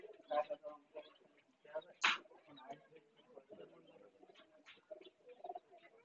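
Desi pigeons coo softly in short, scattered calls at low volume, with a faint voice mixed in among them.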